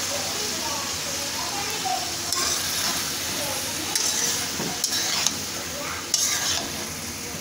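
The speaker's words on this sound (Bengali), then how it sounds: "এখন আমি পেঁয়াজটা তার সাথে দিয়ে দিচ্ছি" Sliced onions tossed into a pan of mixed vegetables for a restaurant-style Chinese vegetable dish, sizzling and frying loudly throughout while a utensil stirs with occasional clinks and scrapes.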